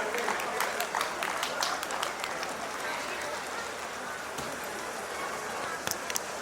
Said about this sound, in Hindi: जोरदार तालियों के साथ स्वागत कीजिए माननीय